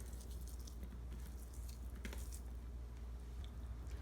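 Soft, wet squishing and crumbling of tofu into a bowl, close up, with a few faint drips against a steady low background hum.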